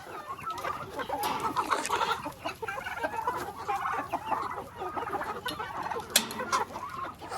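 A flock of chickens and roosters cluck and squawk busily at feeding time, with turkeys and chicks nearby, a dense close chorus of overlapping calls.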